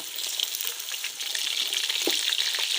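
Lightly pre-fried chicken pieces tipped into a pan of browned onions for biryani, hissing and sizzling loudly and continuously in hot oil with a few stirring clicks, close up and without talk.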